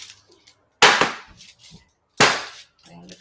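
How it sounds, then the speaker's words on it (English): A baking pan of keto chocolate chip cookies is banged on a kitchen counter twice, each a loud, sharp metallic clang that rings briefly, with quiet rustling between. "So I'm going to do that the pan banging thing."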